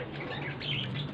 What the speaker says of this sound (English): you all see that the parrots are very cute